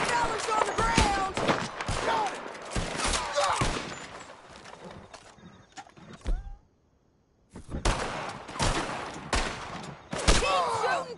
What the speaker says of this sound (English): Keep shooting till they don't get us!